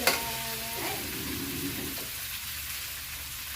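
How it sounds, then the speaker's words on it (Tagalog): Okra fries and sizzles in a pan, a steady crackle close by that continues throughout, with brief stirring at the start. "Marunong ka pala mamirito ng okra."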